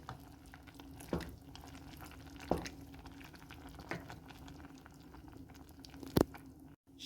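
A spoon stirs passata into a tuna pasta sauce in a pan, giving soft wet squelches and scrapes at a slow, irregular pace over a faint steady hiss, close by with no talk.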